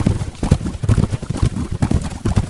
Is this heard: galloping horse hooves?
yes